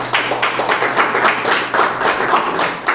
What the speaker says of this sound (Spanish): ¿Cuántos pueden darle un fuerte aplauso al Señor?